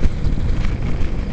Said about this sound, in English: It's very windy today, so I may get some strong winds on this video.